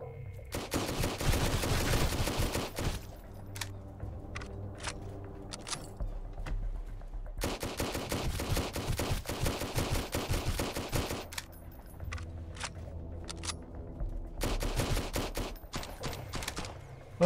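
Bursts of rapid pistol gunfire in the survival video game Sunkenland, three long volleys of repeated shots separated by short pauses, loud and close, with no talking.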